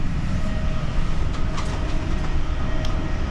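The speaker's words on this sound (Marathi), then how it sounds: "ट्रेननी चाललो आहे मी" A local passenger train runs from Bruges to Brussels, heard from inside the carriage as a steady rumbling roar with faint clicks and rattles from the wheels, continuous and moderately loud, no speech.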